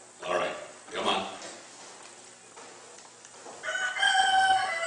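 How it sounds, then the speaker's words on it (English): A rooster crows twice in a science-fiction radio drama set on misty open ground, the calls fairly close and separated by a pause, followed by a brighter, higher crow-like cry. "I can swear that sounds like a rooster."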